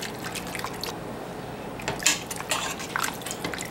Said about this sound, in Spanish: Y le echo las dos tazas de el agua donde se cocinó el mondongo